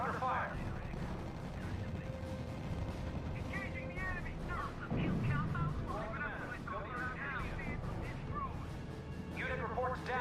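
Gunfire and artillery rumble and crack from the strategy game RUSE, continuous and moderately loud throughout, mixed under radio-style unit voices and other talk.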